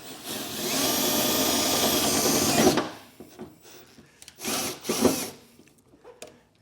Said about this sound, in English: we'll come back with the step bit and enlarge this out to 7/8.